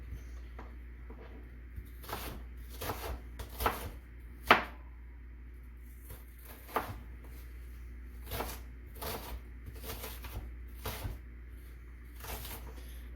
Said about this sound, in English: Usually I don't have this much problem chopping up an onion.